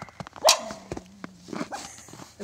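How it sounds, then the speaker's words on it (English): A dog barks sharply nearby during tractor loader servicing, one loud bark standing out with a few smaller yips and thumps around it against a quiet background. "especially when there is a screaming dog"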